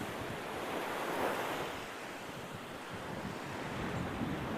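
Surf rolls and breaks steadily along a long beach while wind buffets the microphone, a continuous close wash of waves with gusty rumble and no voices.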